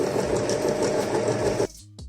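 Sewing machine stitching a dress seam, a steady fast mechanical whirr that runs close and even, then stops abruptly, followed by a brief final burst of the motor.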